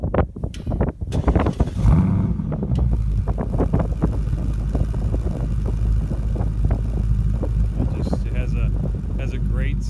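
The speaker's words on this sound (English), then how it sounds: "I'm going to switch back to the original audio where I started up so you can hear the exhaust" A 2018 Ford Mustang GT convertible fires up and settles into a loud, deep, steady exhaust rumble close by, with a rough burst at startup and some wind-like buffeting over the drone.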